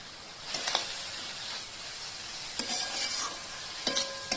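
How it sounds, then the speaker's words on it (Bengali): Grated carrots for carrot halwa fry in a pan, giving a continuous close sizzle broken by three distinct scraping stirs of a utensil. "আমি গাজরটাকে একটু ভেজে নেবো গাজরটা যতক্ষণ হালকা রং চেঞ্জ হচ্ছে গাজরটাকে একটু ভেজে নেবো"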